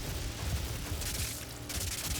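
Gunfire in DOOM blasts loudly in a short, dense stretch of heavy shots and booms, with a bright crackling burst partway through.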